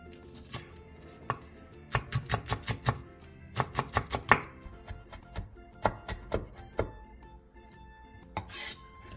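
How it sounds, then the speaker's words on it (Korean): A knife finely slicing green onion on a cutting board after scoring it lengthwise, with sharp, close chopping taps coming in fast bursts and pauses, no talking. "대파에 길게 칼집을 넣은 뒤 쫑쫑 썰어주세요."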